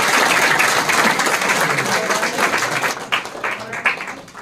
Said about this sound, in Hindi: सबसे ज्यादा तालियों की गड़गड़ाहट आपकी परफॉर्मेंस में मिली है